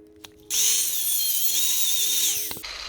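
A power tool cuts a piece out of metal: a sharp high whine kicks in abruptly, holds loud and steady for about two seconds with a slightly shifting pitch, then winds down and stops.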